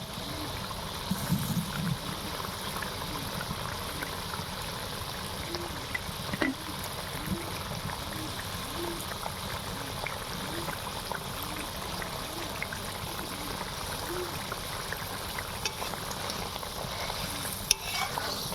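Pieces of bhola fish fry and are stirred in a pan during a masala curry recipe, giving a steady close sizzle with soft scraping stirs repeating through the whole stretch and no talking.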